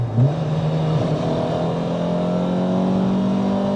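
A warmed-up Peugeot 106 Rallye engine revs up from a low idle, its pitch climbing and then holding at a steady, loud drone close by.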